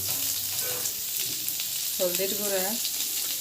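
Fish with brinjal, mustard oil, green chilies and spice powders stirred in a pan, giving a steady close sizzle with scraping stirs; a voice speaks briefly midway.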